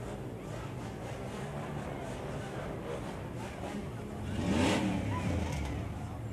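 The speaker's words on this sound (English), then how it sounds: "Now that's a big truck." A big truck rolls past during a Christmas parade in Frankfort, its engine swelling as it nears amid steady crowd and street noise, with people talking nearby.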